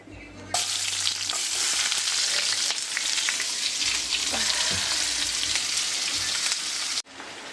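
Onions fry in hot oil with cardamom and bay leaf. A loud, dense sizzle bursts in when they hit the pan and keeps crackling steadily for several seconds, then cuts off sharply near the end.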